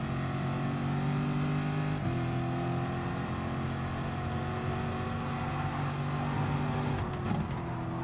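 A McLaren race car engine hums steadily in Gran Turismo Sport, a sustained tonal drone with a brief pitch shift around two seconds and a short gear-change crackle near the end, no voices.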